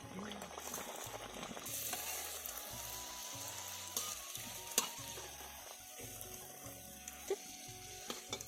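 Spinach puris deep-fry in hot oil, a soft steady bubbling sizzle with occasional louder pops and scrapes of a slotted spoon, fairly quiet and with no talking.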